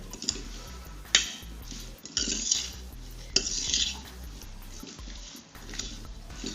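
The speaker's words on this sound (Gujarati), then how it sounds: "આ રીતના મરચાં હલાવી લઈશું એટલે આપણી હળદર છે એ પણ એકદમ તેલમાં મિક્સ થઈ જશે" Green chilies being stirred with turmeric in oil for a raita-style pickle, with a spoon clinking and scraping against the pan in several distinct knocks over a soft stirring rustle.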